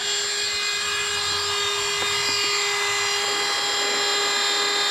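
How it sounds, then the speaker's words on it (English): A Dremel rotary tool spins at high speed cutting a nick into a flex shaft for a Zonda model boat build, a loud, steady whine with bright tonal harmonics and brief changes in pitch as it bites into the metal. "So let's just quickly cut that off here. Take the Dremel."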